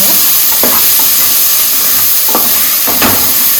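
Palak pulao ingredients with turmeric and salt frying in a pan, a loud close sizzle and hiss with three spatula stirs scraping through it, no talking.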